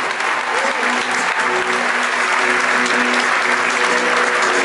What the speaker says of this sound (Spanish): Quiero pedir un aplauso primero para el maestro Tito Santos que me hace el honor de acompañarme.